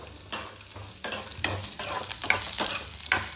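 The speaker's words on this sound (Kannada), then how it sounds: "ಸ್ವಲ್ಪ ಕೆಂಪು ಬಣ್ಣ ಬರೋವರೆಗೂ ಹುರ್ಕೊಳ್ಳೋಣ" Grated fresh coconut and onion frying in oil in a pan, with a steady close sizzle broken by repeated stirring strokes scraping through the mixture at an uneven rhythm.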